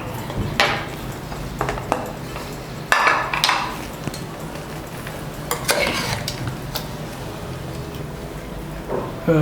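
Metal clanks and scrapes of a pressure cooker lid being handled and lifted after whistling while making chicken kurma, a few sharp clatters over a low kitchen background.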